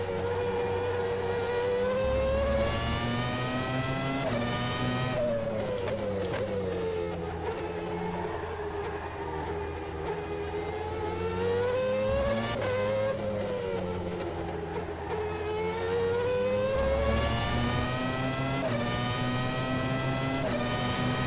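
A 1998 McLaren MP4/13 Formula One car driven in rFactor 2, its engine holding a steady high-pitched scream with repeated gear-change dips and re-climbs across the lap, loud and close from the cockpit.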